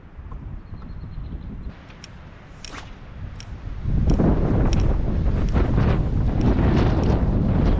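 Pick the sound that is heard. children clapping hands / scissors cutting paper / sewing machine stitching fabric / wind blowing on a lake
wind blowing on a lake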